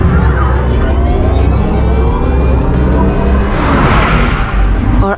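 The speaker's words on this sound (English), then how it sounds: "Or more like a spacecraft?" An electric vehicle's synthetic, spacecraft-like warning sound plays as a loud, dense hum with rising and falling tonal sweeps and a shimmering whoosh near the end, with no speech.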